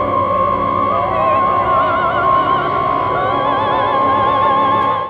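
An electronic piece from 1977 plays as a loud, dense layer of sustained electronic tones, with wavering, warbling pitches gliding over a steady high drone and no voices.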